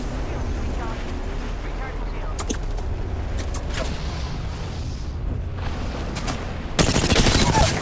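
Gunfire in the video game Apex Legends: a dense, loud burst of shots erupts near the end over a busy background of game noise and voice chatter, with a few sharp isolated cracks earlier.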